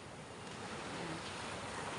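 Ocean waves wash continuously at a seaside shore in the early morning, a faint, steady broadband rush with wind noise and no voices.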